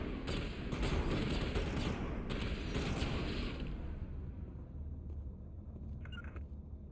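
Dense, rumbling bursts of automatic gunfire from the Mass Effect video game, continuous and loud for about four seconds before thinning into a quieter mechanical rumble.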